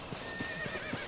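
A horse in Zelda: Tears of the Kingdom gives a whinnying neigh over a steady rhythmic clip-clop of hooves, with a faint musical tone running beneath.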